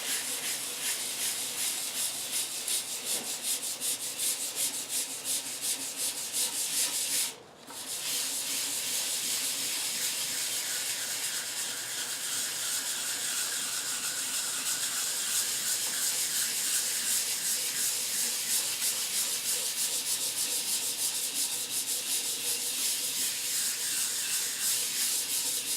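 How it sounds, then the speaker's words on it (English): Light hand-sanding of a wood carving of Bolton Abbey with 320-grit sandpaper, a steady close, soft hissing rub that continues with only a brief pause, no voices. "I've got a piece of 320 sandpaper."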